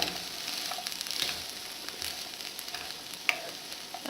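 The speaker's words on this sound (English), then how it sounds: "in the meantime I'm just going to stir my onion and pepper." Onion and pepper sizzling in a pan for a satay noodle stir fry, a constant close hiss of frying with faint scrapes of stirring and one sharp tap.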